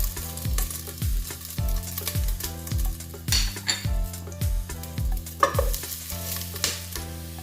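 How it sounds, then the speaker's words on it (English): Ginger garlic chili paste with black pepper and fennel seeds sautéing in a pan for vegetable pulav, a steady sizzle with a spoon scraping and stirring in regular strokes, close and continuous. "Let's saute it well so that the raw flavor of this goes off, garlic and ginger."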